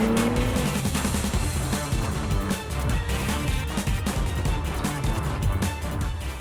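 A Mercedes-AMG C43 accelerates hard in Sport Plus mode with a loud, continuous engine roar and road noise throughout and no talk.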